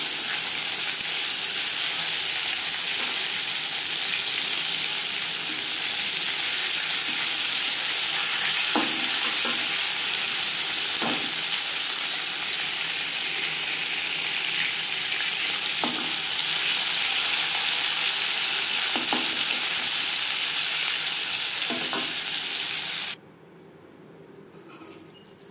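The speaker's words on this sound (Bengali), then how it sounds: "প্রথম ব্যাচের মাছ ভাজা হয়ে গেছে" Bhetki fish pieces fry in refined oil with a continuous close sizzle and hiss, broken by a few soft stirring or turning knocks, before the sound drops away abruptly near the end.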